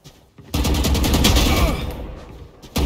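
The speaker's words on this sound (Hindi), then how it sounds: "ये देखो गन इक्विप करके मार भी दिया" Rapid gunfire in VALORANT, a dense burst of shots crackling loud and close for about a second and a half, tapering off, then a fresh burst starting right at the end.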